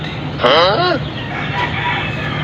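A backyard-raised rooster crows once, loud and close, its call rising then falling over steady background noise.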